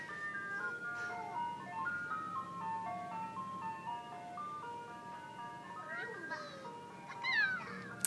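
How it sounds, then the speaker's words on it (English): Ice cream truck jingle from The Sims 4 plays steadily as the vehicle passes, a bright looping melody that swells louder near the end, with faint cat-like meows mixed in. "that was the ice cream truck going by"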